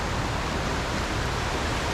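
Steady, dense rush of a swollen creek running fast and close, a continuous broadband roar with no talking over it.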